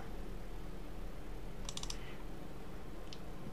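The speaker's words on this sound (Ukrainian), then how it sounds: "так, подвійне клацання" A computer mouse double-clicks, two quick faint clicks close together, followed a moment later by a single softer click over a quiet room hiss.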